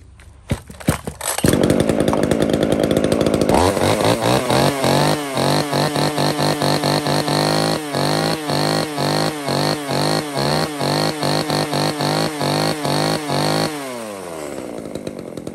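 A Komatsu N9 gasoline chainsaw starts, then idles and is blipped repeatedly in a steady rhythm of loud revs before shutting down, close and alone with no talk.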